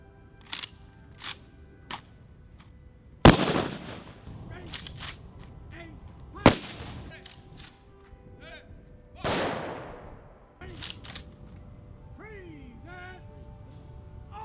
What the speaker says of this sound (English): The officer in charge presents arms to initiate the rifle volley.